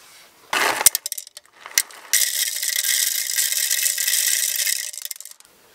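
Mocha Java espresso beans, very dark roast, being ground in a coffee grinder, with a few rattling clicks first and then a steady whirring grind for about three seconds that stops abruptly.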